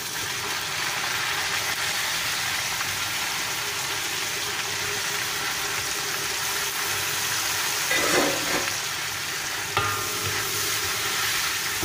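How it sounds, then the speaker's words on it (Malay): Onions and chilies fry in a pan, giving a dense, continuous sizzle with occasional stirring scrapes near the end, close and steady with no voices. "Dah nak garing, kita letak bawang dengan cili."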